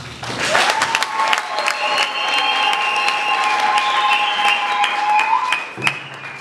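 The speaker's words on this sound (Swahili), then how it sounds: "Nafikiri hayo makofi hayatoshi." An audience at a speech by a deputy minister in Dodoma applauds with sustained clapping, loud and close, while a high whistle-like tone rings through the middle of the clapping.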